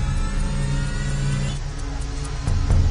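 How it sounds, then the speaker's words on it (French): Airliner engine, the third engine being restarted on the ground before takeoff: a steady mid-pitched whirring drone with low rumble throughout, swelling slightly louder near the end. "les pilotes redémarrent le 3e moteur"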